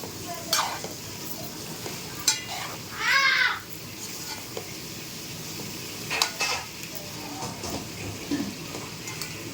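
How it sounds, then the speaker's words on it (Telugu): Fresh coconut paste being stirred into a dish with a spoon, giving soft scraping and mixing noises that come and go, with a faint sizzle underneath and a short voice heard partway through. "పేస్ట్ పచ్చి కొబ్బరి పేస్ట్ కూడా వేసేసి బాగా కలుపుకోవాలండి"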